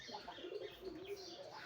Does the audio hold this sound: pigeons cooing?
yes